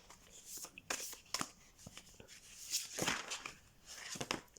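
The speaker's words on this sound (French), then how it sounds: "on va tirer une carte pour chaque cas." Oracle cards from the Fées de la nuit deck are shuffled and drawn, giving soft, quiet bursts of riffling and sliding, close to the listener, with a faint voice nearby.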